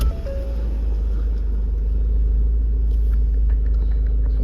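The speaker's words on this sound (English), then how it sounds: "Just start the car up." A Ford Focus 1.5 TDCi Zetec diesel with Euro 6 and stop-start fires up and settles into a steady, deep rumbling idle, close and continuous with no talking.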